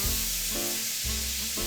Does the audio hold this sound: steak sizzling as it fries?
yes